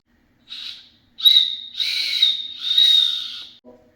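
Whistle built into the plastic handle of a metal spork, blown in four shrill, breathy bursts, the first short and weak, the later ones longer and louder, with near silence between them.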